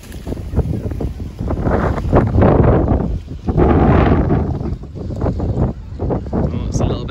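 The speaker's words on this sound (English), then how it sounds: "it's a little bit windy" Strong gusty wind roars across the microphone in a parking lot, rising and falling in loud buffeting bursts, with faint voices beneath the rumble.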